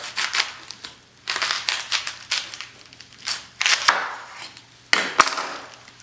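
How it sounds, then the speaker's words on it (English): A French knife chops through a cabbage core on a cutting board, a series of crisp, crunchy cuts and board knocks in irregular bursts, close and fairly loud, no one talking. "Then cut straight down through the core."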